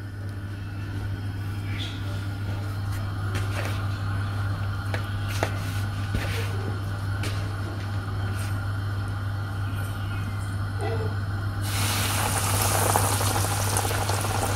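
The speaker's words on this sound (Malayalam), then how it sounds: "ചിക്കൻ ഇതിലേക്ക് ഇട്ടിട്ട് ലോ ഫ്ലെയിമിൽ വേണം നമുക്ക് ഇത് ഫ്രൈ ചെയ്തെടുക്കാൻ" Flour-coated broasted chicken fries in oil over a low flame, giving a steady, continuous sizzle that swells louder near the end, with a constant low hum underneath.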